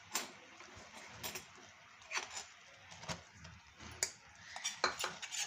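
A spoon scraping and clinking against a metal pan while cashew powder is stirred into sugar syrup for kaju katli, irregular close knocks and scrapes with no voices.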